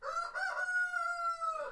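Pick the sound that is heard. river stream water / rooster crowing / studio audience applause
rooster crowing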